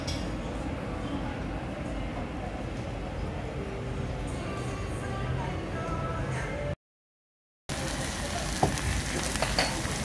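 Meat sizzling on a yakiniku grill in a restaurant: a steady close hiss and crackle that continues after a brief gap, with people talking faintly.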